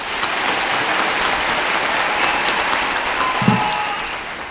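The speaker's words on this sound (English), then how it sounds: "so I'd ask the audience to clap on the count of three" Convocation audience clapping together on cue, a dense sustained burst of applause from a large crowd lasting several seconds at steady loudness.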